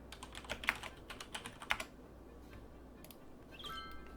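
Soft clicks of typing on a PS4 while playing Cities: Skylines, a handful of light taps scattered over the first two seconds, then quieter room tone.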